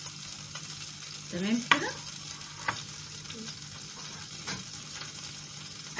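Meat sizzles in a frying pan for a mushroom beef piccata, a moderate steady frying hiss with a few scraping stirs, and a brief spoken remark partway through.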